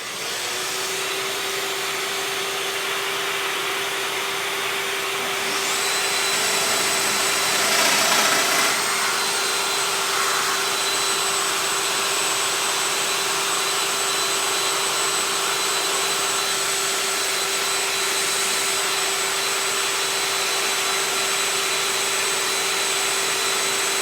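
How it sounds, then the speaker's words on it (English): A domino joiner cuts tenon mortises into wood for a window table, its steady, loud motor whine running throughout with a brief surge of cutting noise partway through. "then I'm going to cut that first domino or first tenon"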